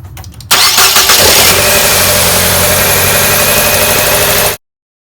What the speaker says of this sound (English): Let me start it up now. Let me start the car.